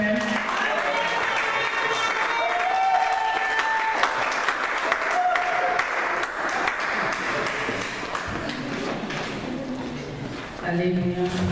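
Congregation clapping in a church worship service, steady applause filling the room throughout, with singing and voices mixed in and a brief dip near the end.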